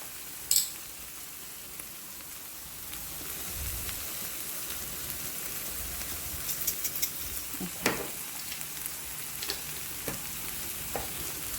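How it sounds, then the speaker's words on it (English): Wild rice being stirred with wine in a hot pan, a soft steady sizzle broken by the scrape and clatter of a spoon moving through the grains, close and quiet, no voices. "I'll basically stir this and keep an eye on it until the wine has evaporated"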